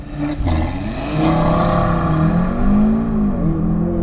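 Audi RS Q3 (2021 model) accelerating hard from a launch-control start in dynamic mode with traction control off, its engine note rising steadily and loudly through the gears, heard from inside the cabin.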